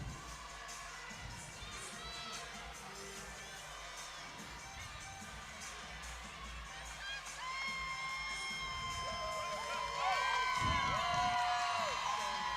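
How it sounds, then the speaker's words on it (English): Crowd cheering and whooping in an arena during a college women's gymnastics meet, a steady murmur that swells louder toward the end with children's shouts and high yells, heard from the commentary position. "Jay Ramirez gets the crowd going as he walks by us"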